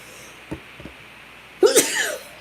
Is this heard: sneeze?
yes